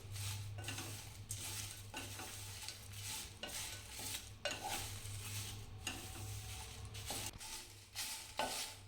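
Spice powder ingredients are dry roasted on low heat in a pan with no oil, giving a faint, continuous rustle and scrape of stirring in steady repeated strokes over a soft crackle, with no talk.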